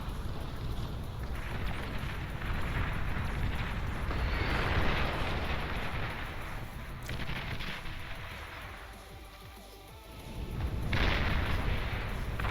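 Units firing and explosions in the strategy game Beyond All Reason, with spider units shooting up at fiends: dense rumbling barrages and blasts that swell and fade in waves, loud and continuous with a brief lull before erupting again.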